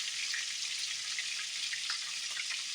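Food fries in oil with a little missing butter, producing a steady, bright, close sizzle with faint crackles and pops running evenly throughout.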